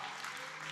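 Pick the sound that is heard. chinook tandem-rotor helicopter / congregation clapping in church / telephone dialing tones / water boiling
congregation clapping in church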